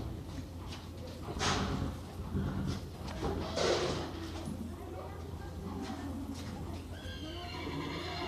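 A horse whinnies a couple of times amid stable background noise, with some faint movement and clatter around it.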